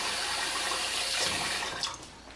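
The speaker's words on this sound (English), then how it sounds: "What you could do is just add a little bit of water. I'm gonna add some to show you the amount." Tap water runs in a steady, close, hissing rush into baking soda for tenderizing meat, then tapers off near the end.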